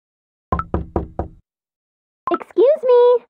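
Four sharp, evenly spaced knocks on a door, loud and close, followed after a pause by a brief spoken voice.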